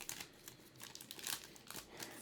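A foil trading card pack wrapper is torn and crinkled open, a faint, close run of crackles and rustles with a few sharper crinkles.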